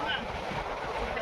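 A boat travelling on the sea near Puri, its steady broadband rush of water and wind filling the whole moment without a break, with a voice faintly mixed in.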